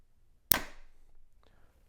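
A Hoyt Torrex XT compound bow releases one shot, a sharp crisp snap followed by a short fading thrum, then near silence with a faint tap afterward; no talking.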